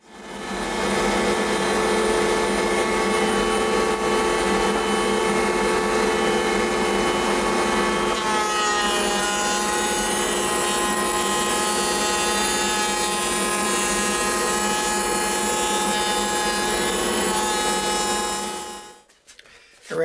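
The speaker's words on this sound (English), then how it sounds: "run any length of wood through the router that I need to" A router whines loudly and steadily while cutting a rabbet along a length of wood for a picture frame, its pitch shifting slightly partway through before the motor spins down at the end.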